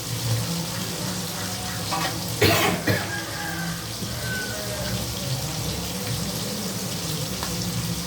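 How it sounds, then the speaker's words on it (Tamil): Chicken pieces coated in home-ground masala fry in a pan with a steady, faint, even sizzle, briefly broken by a single nearby cough. "இப்போ அதை பொரிஞ்சிட்ருக்கு"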